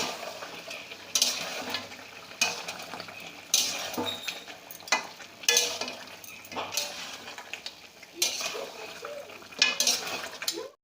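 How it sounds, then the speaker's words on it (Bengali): Home-style desi chicken curry with chopped tomatoes being stirred in a pan: repeated close scraping and clinking bursts of a spoon against the metal, in uneven strokes over a faint background hiss. "আবারও আমি একটু নেড়ে চেড়ে দেব।"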